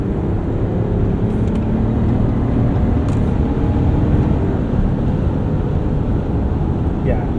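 A 2025 RAM 1500 Crew Cab Laramie 4x4 pickup with air suspension accelerating on the road, a steady, loud low engine and road roar heard from inside the cab, continuous with no pauses.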